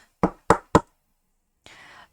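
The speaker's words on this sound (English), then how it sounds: "Then there was a loud and authoritative tap." Three loud, evenly spaced raps on a wooden door, sharp and close, followed by silence and then a soft rustling hiss.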